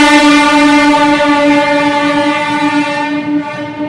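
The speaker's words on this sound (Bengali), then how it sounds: "এটা রাজধানী এক্সপ্রেস ক্রস করছে নিজামুদ্দিন, হজরত নিজামুদ্দিন থেকে চেন্নাই অবধি যাওয়ার।" A Rajdhani Express from Hazrat Nizamuddin to Chennai runs through Mathura Junction, its loud, sustained horn blaring close by for several seconds over the rumble of the train.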